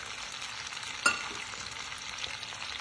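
Butter and brown sugar cook together in a pan for caramel, giving a steady, soft frying hiss with one brief clatter partway through. No voices.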